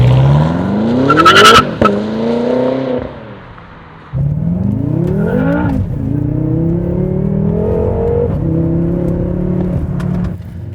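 A car on a test drive revs hard from inside the cabin, the engine note climbing through repeated gear shifts, loud and close, with a brief drop in power before it pulls again.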